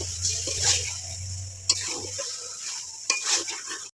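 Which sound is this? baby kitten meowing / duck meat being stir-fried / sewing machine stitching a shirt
duck meat being stir-fried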